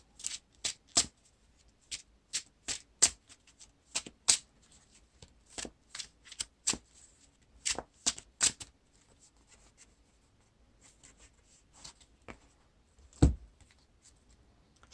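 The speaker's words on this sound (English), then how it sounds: "Now we draw" Playing cards for The Lord of the Rings card game are drawn and handled, giving a run of crisp snaps and slides close up. The rhythm is quick and irregular and thins out toward the end, with no talk.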